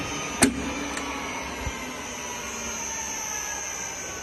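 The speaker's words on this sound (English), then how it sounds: "Now I opened the lid and the mixer stopped." A 10L tilting kneader mixer with PLC control hums steadily, with a click and a thump as the lid opens and the machine's drive stops, leaving a constant background drone.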